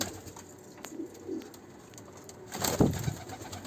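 Pigeons, including young birds, cooing faintly inside a coop against a hissy background, with a louder fluttering burst near the end.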